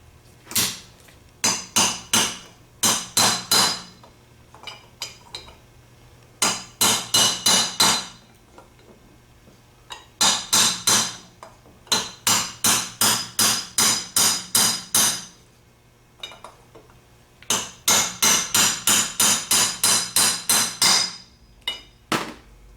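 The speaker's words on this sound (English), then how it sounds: "Best thing to use to tap that in is going to be a 3/8 extension." Rapid bursts of light metallic tapping as a bushing is driven into a vintage Chrysler starter with a 3/8 extension, clusters of sharp knocks close up with short pauses between groups.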